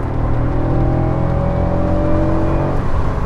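A Honda NSX engine pulls hard and steadily under acceleration from inside the car, a loud, sustained drone that climbs slowly in pitch, with no talking.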